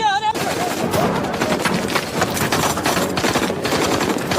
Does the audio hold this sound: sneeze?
no